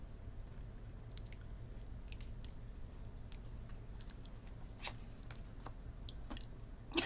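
Tarot cards being shuffled during a live reading, with soft, faint, irregular papery flicks and taps over a quiet room hum, close by and unaccompanied by talk.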